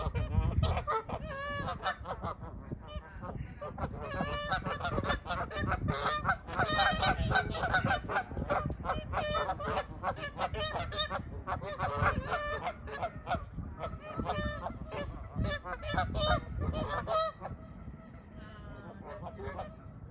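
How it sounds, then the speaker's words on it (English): A chorus of Canada geese honking loudly and continuously in a park in West Allis, Wisconsin, overlapping calls close by, with a busy, agitated rhythm throughout. "This one pair of geese is coming over"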